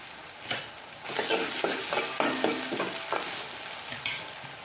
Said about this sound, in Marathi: कांदा छान असा परतून घ्यायचा आहे लाल झाल्यानंतर टोमॅटो टाकायचे टोमॅटो टाकते आलं लसूण पेस्ट